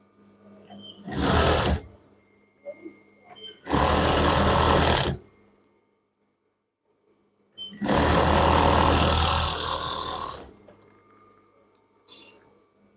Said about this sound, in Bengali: এখন আমি পট্টির কাপড়টা এই ভা অংশে এভাবে লাগিয়ে দিব মানে সাইড দিয়ে সেলাই করে দিব